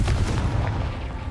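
A Confringo spell explosion goes off in the Hogwarts Legacy video game with a loud, close, booming blast that decays over about a second.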